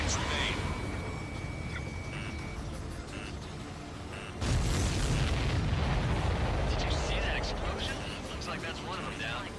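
A missile strikes a supply ship dead on in the Ace Combat 7 video game, a loud booming blast that erupts midway over constant jet engine roar, with radio chatter around it.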